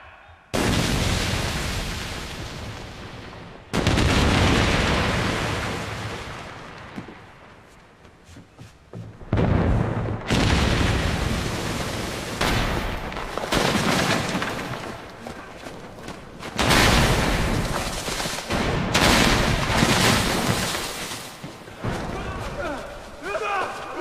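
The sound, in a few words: cannon gunfire in a pirate battle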